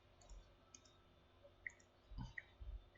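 A few sharp mouse clicks land sparsely and quietly against a low room hum while someone copies parts in a CAD lamp assembly, with no voices in between.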